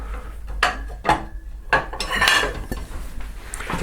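Metal baking tin scraping and clattering as a breakfast cake is worked loose and tipped out, with several separate knocks and rasping scrapes close by, no talk.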